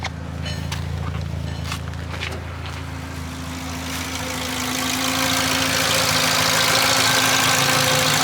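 A car engine idles steadily with a low hum, and a fast ticking, clicking noise runs through it, growing somewhat louder toward the end.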